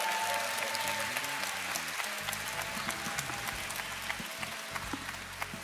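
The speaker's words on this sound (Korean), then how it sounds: "다시 한번 뜨거운 감사의 박수 전하겠습니다" Applause from a church family retreat congregation thanking the pastor, a dense wash of clapping that holds steady throughout, with low musical tones beneath it.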